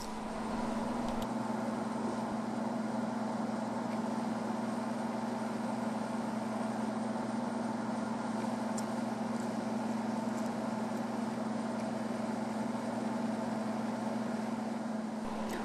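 A small electric slot car motor runs on its own with a steady, constant droning whine that holds at an even pitch and level for the whole stretch, with no voices.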